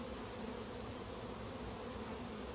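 A caught swarm of honeybees being installed in Michigan gives a steady, dense buzzing drone that stays even throughout with no voices.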